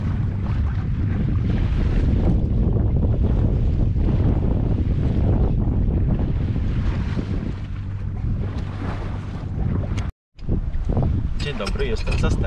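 A sailing boat moves through the water near Chichester Marina, with strong wind buffeting the microphone and a constant rushing wash of water. There is a brief dropout near the end, and voices talk faintly underneath.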